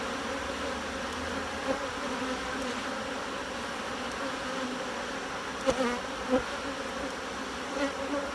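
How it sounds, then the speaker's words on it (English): A dense, steady drone of honeybees fills an opened hive during an inspection, constant and close, with a few faint clicks and knocks from handling the frames. "When I first started beekeeping, when I first got these hives this year, I wanted to see the queen every time I opened this."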